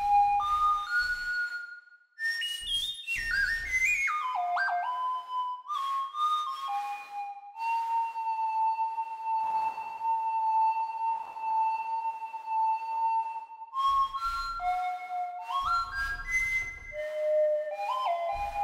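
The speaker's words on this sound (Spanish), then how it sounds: "dije que iba a ser como un silbido y terminó sonando como flauta" A breathy, flute-like synthesizer lead from the Vital synth, lowered an octave with reverb, plays a melodic line of stepping notes, holds one long sustained tone, then resumes moving phrases.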